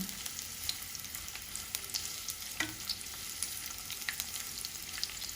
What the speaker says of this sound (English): Now we'll add some of the onions and we are going to saute it until it is light brown.